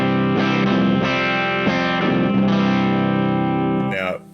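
Electric guitar tuned to C standard played through a Warm Audio Warm Bender fuzz pedal, giving thick, saturated sustained chords that ring loud and close before cutting off with a short squealing tail.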